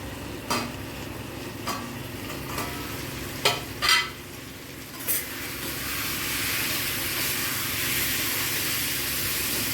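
Vegetables sizzling in a pan with a few sharp scrapes and clinks of a stirring utensil, then a steadier, louder frying hiss.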